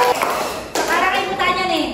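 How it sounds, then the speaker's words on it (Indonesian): Children in a classroom biology lesson clap their hands together in a dense, steady burst of applause, with voices talking over it. "Mari kita tepuk tangan untuk kegiatan pembelajaran kita."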